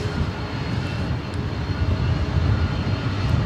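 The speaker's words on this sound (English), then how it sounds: "Here's a Polar Air Cargo DHL" A Polar Air Cargo DHL Boeing 747-8 arriving at LAX, a steady, moderately loud low jet rumble holding constant throughout without breaks.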